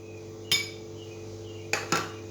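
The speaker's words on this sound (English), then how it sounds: "You open up your sardine like this." A tin of sardines being opened, with a few sharp metallic clicks and clinks of the can and lid, close and otherwise quiet.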